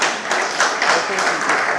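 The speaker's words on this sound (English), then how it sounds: "let's clap for UPSA" Audience applause at a media relations event hosted by UPSA, a steady wash of clapping sustained at even loudness for a couple of seconds.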